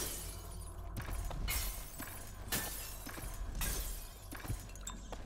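Glasses shatter in Dishonored: several sharp breaking crashes land about a second apart over a low, rumbling game background, each one a bright burst that fades quickly.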